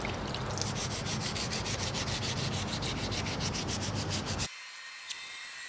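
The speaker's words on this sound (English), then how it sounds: "Actually gonna go ahead and do a quick little wet sand with some 400 grit on the primer." Primer on car engine covers is wet-sanded by hand with 400 grit sandpaper, a close rapid back-and-forth rubbing rasp in even strokes that stops abruptly near the end, leaving faint quiet.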